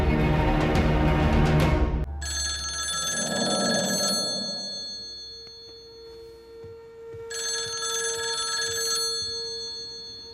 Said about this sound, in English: I took a chance and dialed the number I had for Lydia's old landline